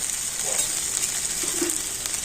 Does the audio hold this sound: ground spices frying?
yes